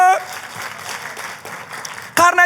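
A church congregation claps with a broad, sustained roar at a worship service. Music and a voice surface briefly before a loud burst near the end.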